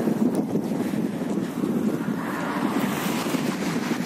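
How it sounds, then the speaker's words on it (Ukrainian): Warm breeze blowing outdoors in Chernobyl, a steady rushing wind buffeting the microphone with low rumble throughout, no voices heard. "Ви знаєте, вітерець піднявся, але він не холодний. Теплий вітер."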